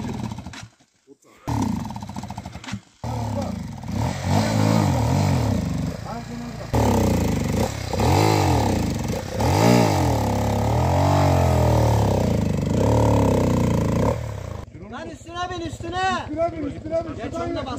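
An off-road vehicle's engine revs and roars loudly up close during an off-road outing, growling continuously with a few brief dropouts while people shout and talk over it.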